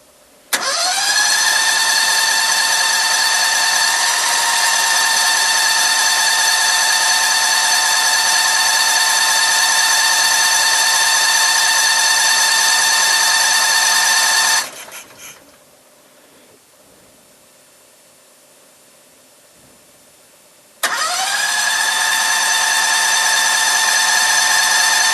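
A cold Predator 670cc petrol engine, given a little choke, catches and runs at a steady, high-pitched buzzing idle, cuts out for several seconds, then starts again and keeps running loudly.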